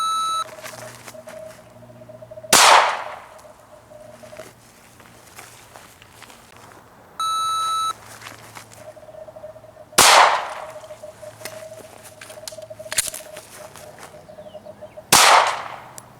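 At a shooting range, a shot timer sounds its electronic beep, followed by loud, sharp gunshots spaced several seconds apart, three heavy reports in all with quieter shuffling between them.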